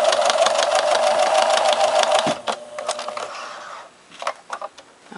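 A sewing machine runs steadily, stitching back over a seam in fur fabric with a dense, rapid whirring for about two and a half seconds, then stops, leaving only a few soft clicks and handling noises.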